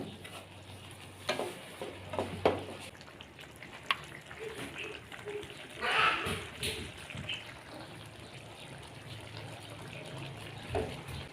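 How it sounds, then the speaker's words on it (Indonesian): Sweet and sour sauce with squid, shrimp, carrot and leek bubbling in a pan, with soft popping and sizzling, occasional utensil ticks and stirring, moderately quiet and close. "Sudah meletup-letup."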